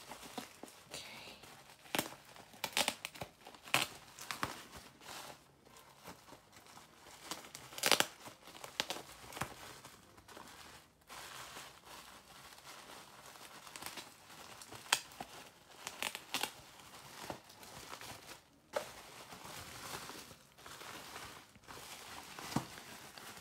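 Crinkly plastic packaging from a received parcel rustles, tears and crumples in irregular bursts over about twenty seconds, close up and fairly quiet, with no talking.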